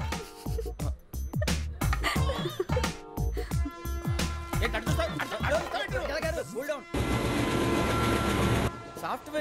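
A moving passenger train rattling over the tracks, with rhythmic clickety-clack of wheels over rail joints and a loud steady rumble, under a comedy scene's background.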